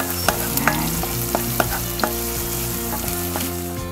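Garlic frying in a pan for creamy chicken afritada, a constant close sizzle and crackle broken by repeated light clicks of a spatula against the pan.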